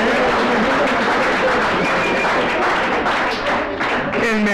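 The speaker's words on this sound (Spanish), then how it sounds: "un fuerte aplauso para las mejores Bock presentadas" Applause fills the hall at a homebrew beer awards gala honoring the best Bock entries, a loud, sustained rush of many hands clapping with scattered voices and thumps underneath.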